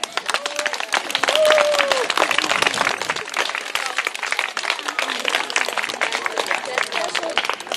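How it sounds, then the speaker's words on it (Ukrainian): Steady, dense applause from a large audience at a kindergarten theatre festival musical, loud and continuous throughout, with some voices and children's chatter mixed in. "Тому давайте зустрінемо його оплесками"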